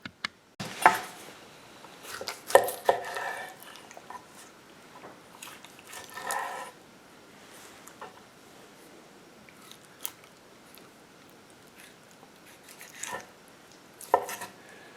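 Knife slicing an elk heart into quarters on a cutting board, scattered soft wet cuts and a few sharper clicks of the blade against the board, close and quiet, in irregular bursts with pauses between.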